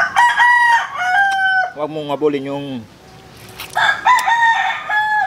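A rooster crows loudly nearby, its drawn-out call repeating, with a person speaking briefly over and between the crows.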